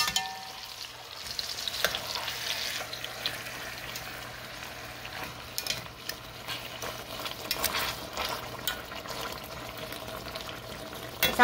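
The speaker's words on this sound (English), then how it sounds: "It's sizzling." Italian beef fries in a hot pan with a steady, crackling sizzle, spitting and popping unevenly at close range with no talking over it.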